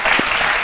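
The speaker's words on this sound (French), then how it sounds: "j'aimerais qu'on applaudisse, qu'on ovationne vraiment" A short burst of dense, loud audience applause and ovation during a French-language radio broadcast, steady throughout with no speech.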